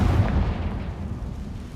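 A Confringo blasting spell bursts in Hogwarts Legacy, a deep booming explosion that hits at once and rumbles away over a second or two.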